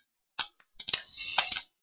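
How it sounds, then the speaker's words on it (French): Computer keyboard keys clattering in a few short clustered bursts of typing, close and moderately loud, with no talking. "désolé aussi pour les bruits du clavier"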